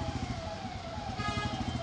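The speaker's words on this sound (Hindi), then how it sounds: "ये एम्बुलेंस पिछले 10-15 मिनट से यहाँ पे सायरन बजा रही" An ambulance siren wails in a stalled traffic jam at KLK, a faint, steady tone sounding through the low hum of idling traffic, with no speech.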